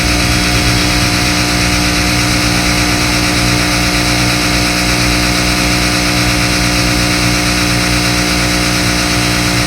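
A Jack A2B machine runs at high speed with a loud, unbroken mechanical whir and hum. It stays steady and very close throughout, with no pauses.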